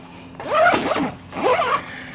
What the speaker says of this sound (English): You simply zip it up in the back and you're all set to go.